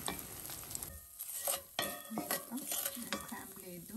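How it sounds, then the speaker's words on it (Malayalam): Egg scrambled in hot oil in a pan over medium heat for chicken fried rice, with a steady close sizzle broken by stirring and scraping strokes of a utensil against the pan. "ഒക്കെ മീഡിയത്തിലൊക്കെ വെച്ചിട്ട് നമുക്കൊന്ന് ഇങ്ങനെ സ്ക്രാമ്പിൾ ചെയ്തെടുക്കാം"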